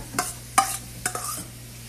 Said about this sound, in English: you're going to go ahead and add in your corn